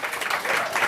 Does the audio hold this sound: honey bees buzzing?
no